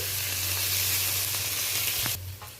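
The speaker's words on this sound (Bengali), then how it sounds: "পেঁয়াজ, কাঁচা লঙ্কা, টমেটো ভালো করে নেড়ে নিচ্ছি।" Onion, green chili and tomato frying in a pan and being stirred, a steady close sizzle with a few spoon scrapes, ending with a brief clatter as the hiss drops away.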